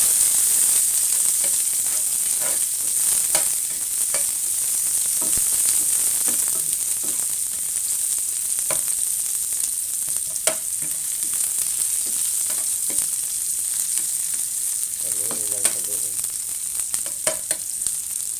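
Onion drops into very hot oil and fries hard while being stirred repeatedly, giving a loud, continuous sizzle with scattered scraping and clicking of the utensil against the pan.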